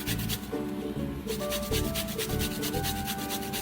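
Coconut grated by hand on a regular grater, close rhythmic rasping strokes in a fast steady pattern, loud and continuous, no talk.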